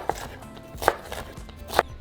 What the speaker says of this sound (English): now just get them all together and cut them into small cubes